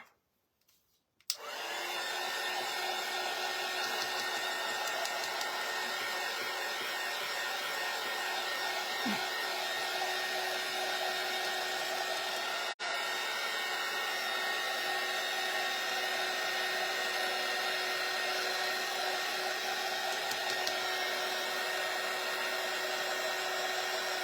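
A dryer blows continuously and loudly at close range to dry paint on a farmhouse Christmas tree craft piece. It switches on after a brief moment of quiet and keeps up an even roar.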